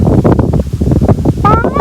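Strong cool wind in an open rice field buffets the microphone in a steady low rumble with gusty pulses, and a faint whistling tone rises briefly near the end.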